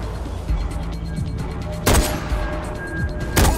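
Sniper rifle shots in Far Cry 4, two loud sharp cracks a second and a half apart over a steady background of game ambience and softer distant gunfire.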